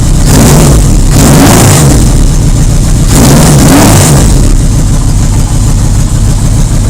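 A 1980 Yamaha XS1100 motorcycle with a 4-in-1 header, its engine loud and close, revving twice in strong swells before settling back to a rough, steady idle.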